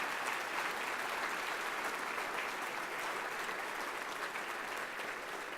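An audience at a fundraising dinner applauds the VocalEssence professional chorus after its performance of America the Beautiful, a dense, sustained wash of clapping from a large crowd, loud and even across the whole stretch.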